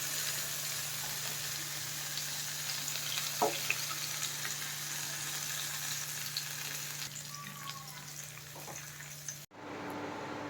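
Loud, steady sizzling of fish frying in hot oil for Kerala fish pollichathu, with a couple of brief clinks from a utensil, cutting off abruptly near the end.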